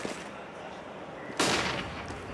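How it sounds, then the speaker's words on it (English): A single loud gunshot, likely an AWP sniper rifle, cracks out partway through a professional Counter-Strike match, NiP versus Virtus.pro at DreamHack Winter 2014, followed by a short decaying tail over steady background game noise. "AWPs down Pasha"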